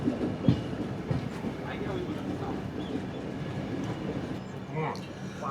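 Trivandrum Veraval Express (16334) rolling into Ahmedabad station, a steady rumble with wheel clatter and occasional squeal, heard from aboard while someone talks over it.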